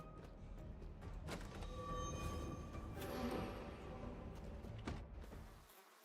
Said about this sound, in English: What is that noise? Buzzing flies.